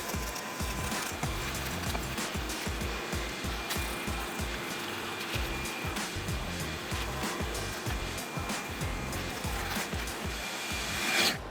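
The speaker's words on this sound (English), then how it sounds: "I can use heavy tools and things like that to scrape this and keep everything clean." Scraping of old gasket material off cast iron cylinder heads on a 1964 Ford Fairlane's 302 V8, a steady dense rasping and rubbing texture with rapid short strokes continuing throughout, close and moderately loud, with no talking.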